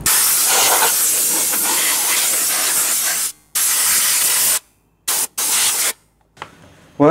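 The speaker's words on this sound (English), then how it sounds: "Air compressor, meet computer." Air compressor blasting dust out of a Dell Inspiron 570 desktop computer, a loud close broadband hiss in several bursts with abrupt silent gaps, the last short bursts quieter.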